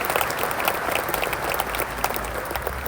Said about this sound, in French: Je voudrais qu'on l'acclame très fort pour l'encourager.